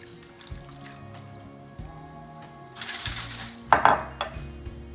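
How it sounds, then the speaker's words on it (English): Pan juices are poured back over a Thanksgiving turkey in a roasting pan. Close splashing and dripping is joined by metallic clinks of the pan and utensils, building to a brief louder spill near the end. "I'm gonna take this and we're gonna pour it all back over the turkey"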